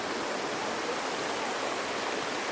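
Kurinji Falls on the Meesapulimalai trek gives a steady, dense roar of rushing water that fills the whole scene evenly and loudly, with no voices.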